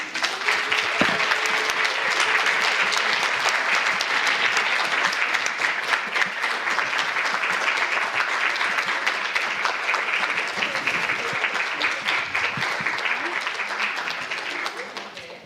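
Conference audience giving a long, sustained round of applause, dense and even throughout, with a faint voice briefly near the start and the clapping thinning at the very end.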